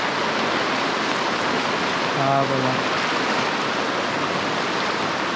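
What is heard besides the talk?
flooded river water rushing in heavy monsoon rain, Konkan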